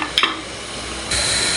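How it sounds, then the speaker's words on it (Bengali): Onions fry in a pan on raised heat while being stirred for a home-style chicken curry, with a couple of brief scraping stirs, then a steady hissing sizzle that grows louder near the end. "নেড়ে আমি পেঁয়াজটাকে একটু লাল লাল করে ভেজে নিব"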